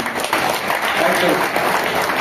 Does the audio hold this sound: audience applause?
yes